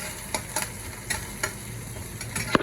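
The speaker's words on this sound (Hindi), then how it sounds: "चिकन के साथ में फ्राई कर दो, चावल फ्राई कर दो" Chicken and rice fry together in a pan with a steady low sizzle, as a spoon scrapes and taps several times at irregular intervals, close and fairly quiet.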